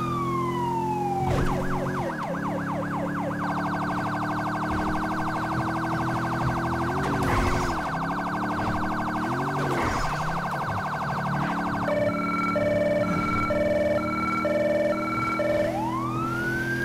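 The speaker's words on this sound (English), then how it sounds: "We're still using the Federal Signal Delta siren." A loud electronic Federal Signal Delta police siren in Grand Theft Auto V cycles through wail, yelp and rapid hi-lo tones over a steady engine drone from an unmarked Ford Taurus patrol car, with no talking.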